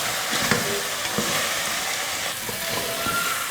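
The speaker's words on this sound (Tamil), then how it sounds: "மசால் போட்டு 2 நிமிஷம் இல்லைன்னா 3 நிமிஷத்துக்கு இந்த மாதிரி எண்ணெயிலேயே நல்லா வறுத்து எடுக்கணும்." Country chicken pieces with masala frying and being stirred in hot oil for a few minutes, giving a steady, close crackling sizzle with occasional scraping taps, no talking.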